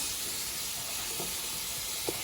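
Ground beef browning in a pot for dirty rice, giving a steady soft sizzle and hiss close up with a few faint stirring scrapes and no talking.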